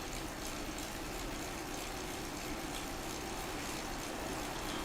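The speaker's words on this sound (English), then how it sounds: "There's a waterfall." Steady broadband rushing of a waterfall in the cycling video game Zwift, a continuous even roar with no breaks and no voices.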